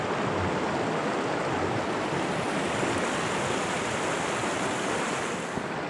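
Clear creek pocket water rushes steadily in a trout stream, a loud, continuous broadband wash close to the microphone with no voices.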